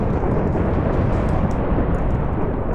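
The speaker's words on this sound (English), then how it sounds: "Let's try the lightning bolt." A lightning bolt strike from a relic in a modded Minecraft game roars as a loud, sustained rumbling crackle, dense and thunder-like, filling the whole stretch without talk.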